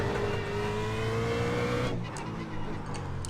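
Engine of a BMW Z4 race car in the iRacing simulator, running on traction control at Circuit of the Americas, drones loudly and steadily, then drops into a rougher crackling exhaust burble as the revs fall.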